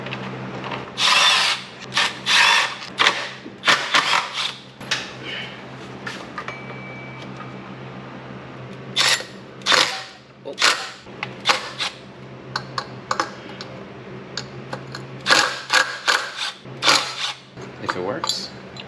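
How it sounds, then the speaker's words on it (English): A tool spins out 10 mm cam cover bolts on a Miata engine during timing belt work, heard as repeated short whirring bursts close by, separated by pauses and light clinks. "Now we're gonna take these 10 mils off for the"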